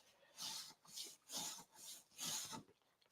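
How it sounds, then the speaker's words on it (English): A red Scotch-Brite pad scrubs a surface in five soft, rhythmic rasping strokes, each a breathy hiss with short pauses between, close and quiet. "I'm going to take a little red Scotch-Brite pad."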